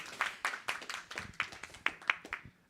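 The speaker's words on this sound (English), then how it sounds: "Round of applause for Graham." A small conference audience claps for a presenter, a brief spattering of hand claps, fairly faint and sparse, fading out after a couple of seconds.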